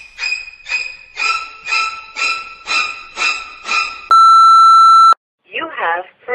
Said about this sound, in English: Please leave your name and message after the beep.